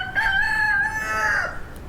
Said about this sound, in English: And big mouth roosters further in the background.